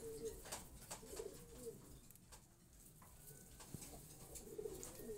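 A pair of fancy Jacobin pigeons cooing, with repeated soft, rolling coos rising and falling over a quiet background, heard faintly but clearly alone.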